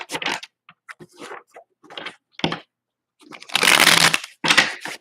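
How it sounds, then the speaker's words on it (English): A Morgan Greer tarot deck being shuffled by hand several times: short, close, crisp riffling bursts separated by pauses, ending in a longer, denser shuffle. "I'm gonna just shuffle it a few times"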